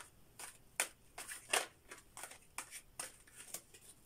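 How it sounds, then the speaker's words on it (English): Tarot cards being shuffled by hand give a rapid run of soft, crisp riffling bursts close up, repeating in an irregular rhythm with no talk. "First, we're going to shuffle the cards a little."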